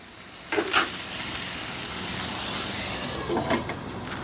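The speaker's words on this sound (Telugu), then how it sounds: "ఇప్పుడు ఈ ముక్కలను అన్నిటినీ స్టవ్ని సిమ్లో పెట్టుకొని మూత పెట్టి ఒక ఐదు నిమిషాలు ఉడికించుకుందాం" A covered pan of cucumber and potato curry with coconut simmers over a low flame, giving a steady soft sizzle and hiss with faint stirring-like bumps, close and alone.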